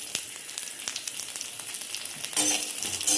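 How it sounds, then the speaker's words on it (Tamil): Peanut chutney ingredients, with a small piece of tamarind added, fry in a pan with a steady close crackling sizzle. Sharp pops come through, and the sizzle turns louder for the last second. "நல்லா பொரியட்டும்."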